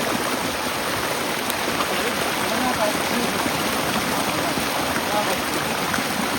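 Heavy rain pours down in a steady, dense rush, loud and close, with no pauses from start to finish.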